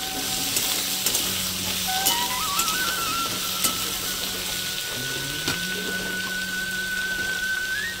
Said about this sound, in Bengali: হলুদ দিয়ে নেড়ে দেবো আমি ভালো করে।